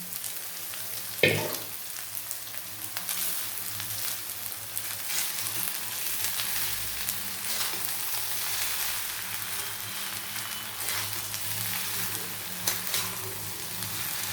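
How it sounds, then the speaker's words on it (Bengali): Cooked rice being stirred as it fries in a pan for fried rice, a continuous close sizzle with soft scraping and one sharp clatter early on, no talking. "ভাতটা নেড়ে নেবো ভালো করে।"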